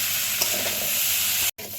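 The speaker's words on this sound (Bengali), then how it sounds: "এইভাবে চালটাকে আমি ভালো করে ঘিয়ের মধ্যে একটু ভেজে নেব" Rice is stirred and fried in ghee in a pan for pea pulao. A continuous close sizzle carries scraping stir strokes and breaks off briefly near the end.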